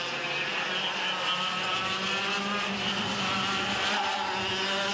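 CIK Junior Yamaha racing kart engines buzz in a junior final, a dense high-pitched drone of several karts running together, steady and fairly close with no voices.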